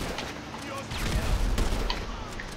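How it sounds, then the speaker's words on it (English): Gunshots in GTA 5 play as a cluster of sharp bangs and booms amid game noise, moderately loud, with a player talking over them. "Oh, I shot him twice."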